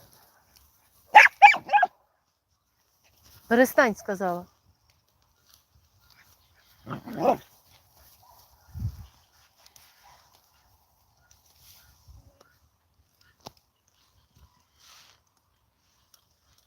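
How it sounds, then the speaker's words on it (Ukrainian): A shepherd dog at a rural goat farm gives several short barks and whimpering yips in separate bursts, fairly close. Someone speaks briefly between them, followed by quieter faint sounds. "у вас пастух гавкає"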